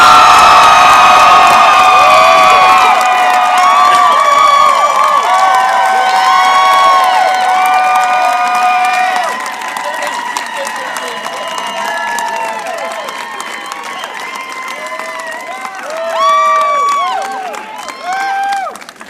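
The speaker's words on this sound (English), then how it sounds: "So maybe how about a real round of applause? Show the love." A convocation audience claps and cheers loudly, with whoops and high shouts rising over continuous applause; the noise dips midway, swells again briefly, then fades.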